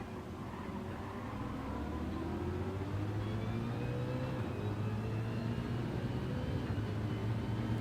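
A Ford Mustang's engine in a racing video game drones at steady revs, its rising harmonic bands showing acceleration as the car pulls away, loud and continuous throughout with no speech.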